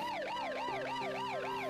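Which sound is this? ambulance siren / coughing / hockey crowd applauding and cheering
ambulance siren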